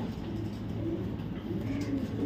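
Racing pigeons, including a tagged 2023 Afsan grizzle, coo steadily in low repeated murmurs at close range, a continuous flock sound with no voices.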